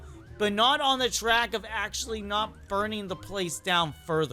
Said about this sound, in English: Okay, that's a ambulance.